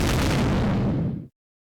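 An explosion sound effect of a safe blowing up: one loud, dense broadband blast with a rumbling body that holds for over a second, then stops dead into silence.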